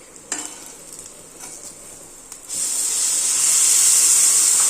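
Tomato puree poured into a hot pan for egg curry sets off a sudden loud, steady sizzle that rises and holds, following a few quieter scrapes and taps.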